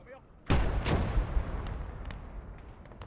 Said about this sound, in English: Maybe we can get them with HE. A little short.